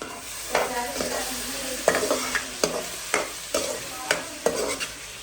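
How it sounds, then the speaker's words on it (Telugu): Tomatoes frying with ginger garlic paste in a pan, stirred in repeated scrapes every second or so over a steady background sizzle, close and moderately loud, with no talking. "ఇప్పుడు నేను టమాటోస్ వేసుకుంటున్నాను"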